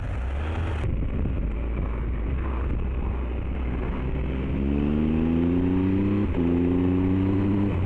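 A Triumph Tiger 1200 XRT motorcycle on a test ride, its engine droning steadily under wind with a rising, revving pitch in the second half; a voice speaks a single brief word.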